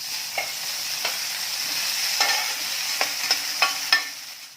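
Onion and finely chopped tomato frying in a pan for bottle gourd curry, a steady hiss under a series of sharp spatula scrapes and taps that grow more frequent toward the end, with no talking.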